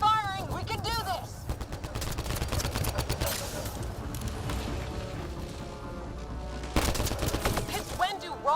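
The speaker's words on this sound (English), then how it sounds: "Just keep firing, we can do this!" Sustained gunfire in the sci-fi shooter Mass Effect Andromeda, rapid automatic bursts and sharp shots layered over each other, with voices talking between the volleys.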